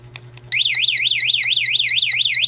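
Freshly installed motorcycle alarm bursting on after a few faint taps, a loud, continuous warbling electronic siren that sweeps up and down steadily until the end.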